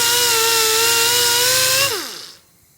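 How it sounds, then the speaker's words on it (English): Die grinder polishing a Snap-on FV 71 ratchet: a loud, steady high-pitched motor whine holds for nearly two seconds, then spins down in a falling pitch to near silence. "I went after it with the die grinder and the buffer"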